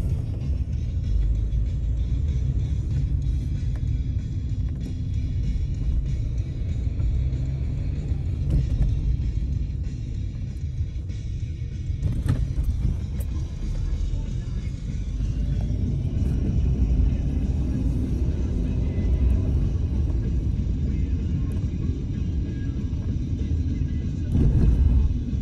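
A car engine rumbles low and steady nearby at a busy festival site in Reading, continuous for the whole stretch with occasional bumps and faint background noise.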